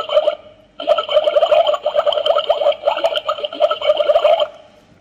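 A small toy mini water dispenser plays a bright electronic melody, a steady run of chirpy tones that stops briefly partway through and then resumes, close and fairly loud with no talking.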